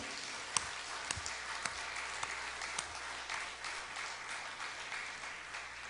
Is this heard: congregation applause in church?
yes